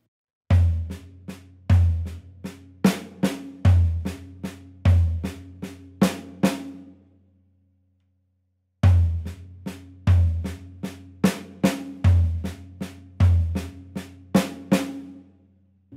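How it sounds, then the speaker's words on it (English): Two phrases of drum hits, deep floor tom strokes in groups of three mixed with sharp snare strikes in a steady, slow pattern, separated by a short silence. "my right hand being played on the floor tom in the groups of 3"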